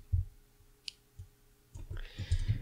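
Computer mouse clicks during drawing work on a computer: several soft, quiet clicks spaced irregularly, with faint background noise and no talking.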